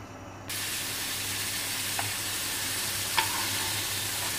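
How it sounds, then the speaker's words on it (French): Onion sautéing in olive oil in a frying pan gives a steady broadband sizzle that starts abruptly and holds throughout, with a couple of faint clicks of stirring; no one speaks. "on va faire revenir l'oignon dans l'huile d'olive"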